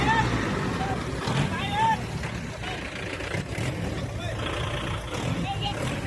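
A farm tractor drives downward with a continuous rumbling engine, heard close and fairly loud while people talk over it.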